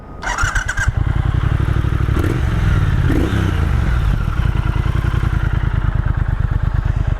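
A 2023 Triumph Thruxton RS Chrome Edition cafe racer starts up and rides off, its engine loud and close with a steady throbbing pulse, briefly revving higher as it pulls away.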